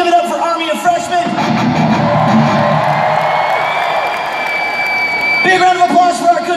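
A concert crowd at a live pop-punk show on the Get Happy Tour cheers and whoops loudly for the band, a sustained roar with shrill whistles carrying through, swelling and then easing before a brief lull near the end.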